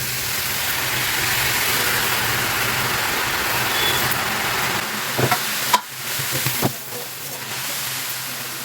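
Thin ring-shaped snack dough for homemade mixture frying in hot oil, a steady close bubbling sizzle that runs throughout, broken near the end by a few sharp clatters as more pieces go in.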